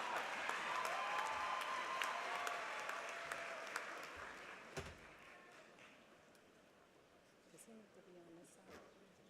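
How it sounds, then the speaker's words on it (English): An audience applauds graduates at a university commencement ceremony in a large hall, with sustained clapping from many hands that slowly fades, plus a few scattered claps and faint crowd noise near the end. "we understand you're going to applaud for your kids"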